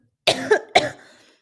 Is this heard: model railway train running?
no